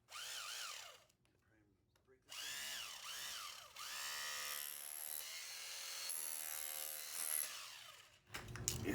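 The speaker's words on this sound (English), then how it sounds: "So if you break it free with some vibration with your roto hammer" A rotary hammer set to hammer-only mode vibrates a rust-damaged commercial steel door frame loose, giving a loud, sustained rattling buzz with a short pause near the start before it resumes and runs steadily.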